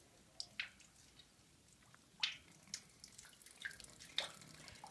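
Sulfur well water trickles into a jar with soft, irregular drips and splashes, close by and faint, spaced unevenly over a quiet background with no talking.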